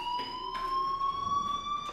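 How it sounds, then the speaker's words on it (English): A fire alarm in the video game Life Is Strange sounds as a steady, shrill electronic tone with harmonics, pulsing slightly and ringing continuously at moderate loudness. "Hey, do you hear that fire alarm?"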